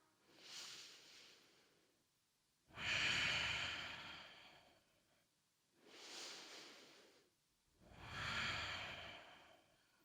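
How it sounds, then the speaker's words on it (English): Slow, deep yoga breathing, two full cycles of long, airy inhales and exhales, each lasting a couple of seconds, close and soft with quiet pauses between. "Take a deep breath in and a full breath out."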